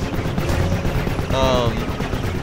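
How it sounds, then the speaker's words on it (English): Space combat in the video game Legends of Pegasus, with a dense, steady barrage of gunfire and explosions and a brief descending whine partway through, all loud and continuous. "You can never have too many explosions."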